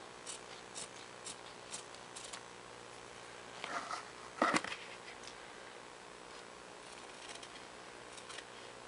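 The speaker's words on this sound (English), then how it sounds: "I don't exactly have the sharpest scissors" Faint, quiet snips of dull scissors trimming, with a few soft crisp clips and a brief louder cluster of cuts partway through.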